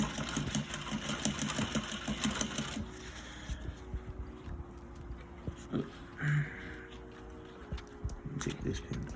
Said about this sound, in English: I'm gonna sew all the way down until we get to that point